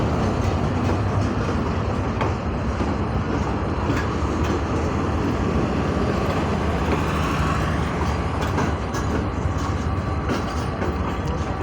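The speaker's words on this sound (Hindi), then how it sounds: "28 down Shalimar express spare rake shuttle rake के साथ प्लेटफॉर्म नंबर 3 पर अराइव कर रही है" A Shalimar Express passenger train, hauled by a locomotive with a spare rake, rolls into platform 3 at Multan station with a steady, loud rumble of wheels and wagons filling the whole stretch, no voices over it.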